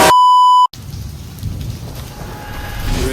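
Steady rain falls on a dark, gloomy day, a dense even hiss that follows a brief electronic beep at the very start.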